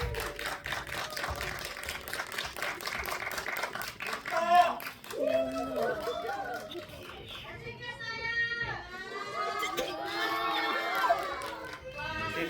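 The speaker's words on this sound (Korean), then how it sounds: "박수 부탁드립니다." An excited cinema audience at a film Q&A claps and cheers, with high shrieks and shouts rising and falling over steady applause, swelling again toward the end.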